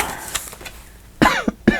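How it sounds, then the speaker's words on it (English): Two or three sharp coughs in quick succession, close and loud, after a quiet stretch. "I do have a little cough today"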